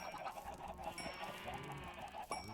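Minecraft chickens cluck and squawk repeatedly, a busy overlapping chorus of fowl calls at moderate level with no talking.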